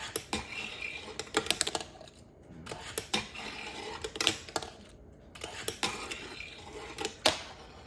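A fingerboard pops out off a rail, giving a string of sharp, light wooden clacks and scrapes in irregular bursts, close and fairly quiet, with no talking.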